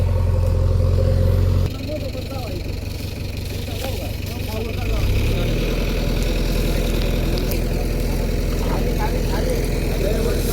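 A JCB excavator works to pull a stuck tractor trailer free, its diesel engine droning loudly and steadily, shifting in pitch partway through as the load changes, while voices talk over it.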